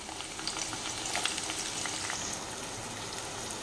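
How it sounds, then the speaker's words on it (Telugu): Onions fry in well-heated oil for a chicken curry, a continuous dense crackling sizzle close up and fairly loud, with no speech. "ఇప్పుడు మనం తీసుకున్న ఎర్రగడ్డలు దీంట్లో వేసుకొని ఫ్రై చేసుకుందాం"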